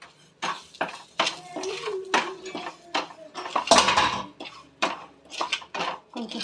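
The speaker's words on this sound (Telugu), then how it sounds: "ఈ దలియాని అయితే వేసుకొని ఫ్రై చేసుకుంటున్నాను." Daliya (broken wheat) being fried in a pan, with a series of loud scraping and clinking strokes of a utensil against the pan in an irregular rhythm, close up, no talk.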